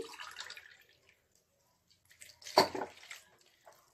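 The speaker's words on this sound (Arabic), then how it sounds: "غادي نزيد عليهم واحد الكاس ديال الماء دافي" A glass of warm water poured over sugar, vinegar and yeast in a bowl for dough, heard as a few soft drips followed by one brief, close splashing pour, with quiet gaps between.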